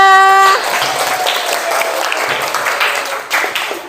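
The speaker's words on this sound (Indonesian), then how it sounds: "Tepuk tangan untuk kita semua" Pupils in a classroom lesson clap together, a loose burst of applause opening behind a fading electronic tone and then continuing as scattered clapping at moderate level.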